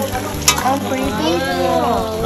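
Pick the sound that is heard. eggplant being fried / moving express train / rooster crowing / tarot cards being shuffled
eggplant being fried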